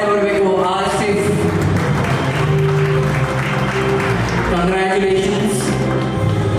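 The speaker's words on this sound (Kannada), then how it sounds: "ನಿಮ್ಮೆಲ್ಲರ ಜೋರಾದ ಚಪ್ಪಾಳೆ ಬರಬೇಕು ಆಸಿಫ್" Audience applause at the ACFA Karnataka State Gem Award ceremony for awardee Asif, a professional model: loud, sustained clapping from a close crowd, with voices mixing through it.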